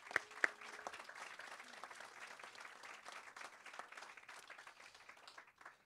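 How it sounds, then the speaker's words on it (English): A crowd claps at an indoor celebration honoring a rabbi, a soft, steady patter of many hands at a distance that slowly fades out. "Let's give them a round of applause."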